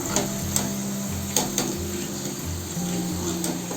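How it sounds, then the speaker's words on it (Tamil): Potato chips deep-frying in hot oil give a steady, low crackling sizzle that runs continuously, with a few soft clinks of a utensil against the pan standing out above it. "எண்ணெயோட சலசலப்பு பாருங்கள் இந்த டைம் வந்து எடுத்துக்கலாம்"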